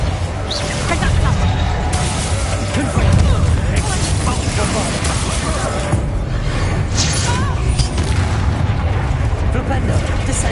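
Continuous loud spell blasts and booming impacts from Hogwarts Legacy combat, with Reductor explosions layered amid dense crashing effects and shouted incantations throughout.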